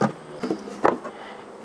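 Bees buzzing around a hive frame of foundation during a hive inspection, a few close, short buzzing bursts with bumps of handling in between.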